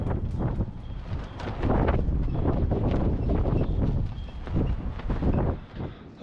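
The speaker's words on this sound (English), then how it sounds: "Today we're getting gusts up to 50 miles an hour." Strong gusty wind buffets the microphone outdoors at an RV site, a loud rough roar that swells and eases in rushing gusts, with nobody speaking.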